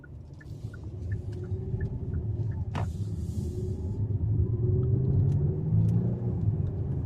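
Low, muted road rumble and tyre noise inside the quiet cabin of a 2019 Kia K900 on the move with its engine sound enhancer off, steady throughout with a few faint ticks.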